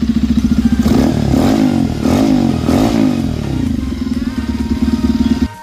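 A Bajaj Pulsar 220 with a modified cut-off exhaust, SC Project muffler and the air filter box removed revs hard up close. Its loud, throaty bursts throb rhythmically over a fast, popping idle.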